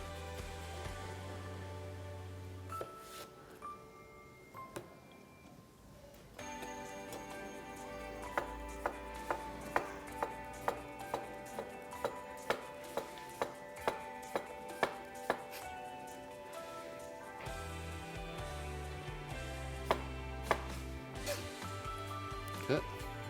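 Cucumber being chopped for a vegetable ratatouille: quick, regular knife strikes on a cutting board in bursts, sounding close and crisp with steady pauses between runs.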